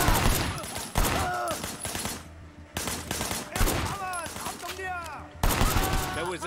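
Gunfire in the Sleeping Dogs video game, loud rapid bursts of shots in several volleys separated by short gaps, with a voice speaking between them.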